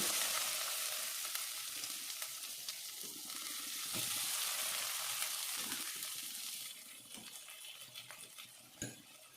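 Boiled potatoes for a quick egg curry sizzle in a hot pan with a loud, steady frying hiss that softens toward the end, with a few light utensil clinks.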